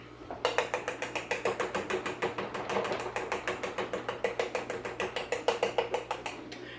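A fork pokes many holes into pizza dough in a cast iron skillet, giving a fast, even run of sharp clicking taps close up over a faint steady hum.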